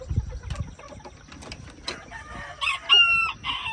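An Old English Game silver duckwing bantam rooster, a molting first-year cock, crows in a short, rising burst near the end, after quieter farmyard clucks and rustling.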